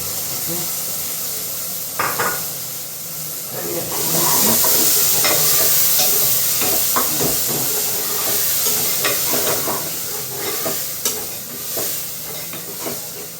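Tomatoes sautéing with onions in a pan for a bitter gourd kuzhambu: steady close sizzle with repeated scraping stir strokes, louder bursts as the tomatoes go in, no talking.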